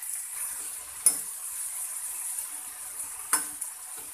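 Potato pieces coated with chili powder fry in a pan with a soft, steady sizzle, broken by two sharp clinks of a stirring utensil against the pan.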